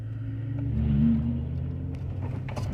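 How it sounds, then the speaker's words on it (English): A car rolls slowly over a rough, washed-out dip in the road that has been filled in with gravel, making a steady low rumble with faint crunching and rattling. "You can probably hear the roughness of the road."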